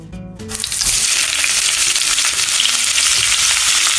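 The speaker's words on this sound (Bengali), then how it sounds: "আমিও পেঁয়াজগুলি উল্টে পাল্টে ভেজে তুলে নিলাম" Onion fritters (piyaju) fry in hot oil, a loud, dense sizzle that swells up after a brief quieter start and then crackles on steadily, with stirring noises and no talk.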